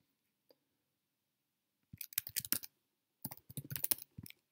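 Two short bursts of computer keyboard typing, quick clattering keystrokes close by in an otherwise quiet room.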